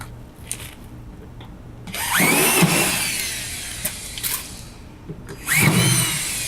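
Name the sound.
power drill driving screws into AQUAPANEL board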